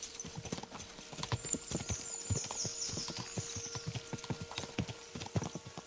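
Horse hooves clip-clop in a steady walking rhythm in the medieval video game Kingdom Come: Deliverance II, close and clear, with a faint whinny and soft background ambience.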